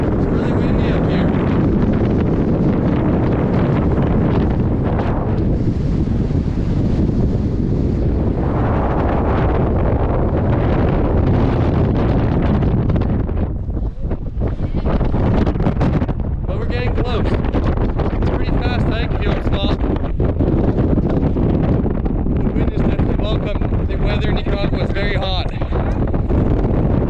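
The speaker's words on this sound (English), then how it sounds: "It's really windy up here." Strong wind at the summit of Cerro Negro volcano in Nicaragua, a constant heavy buffeting roar battering the microphone throughout, with voices talking faintly beneath it.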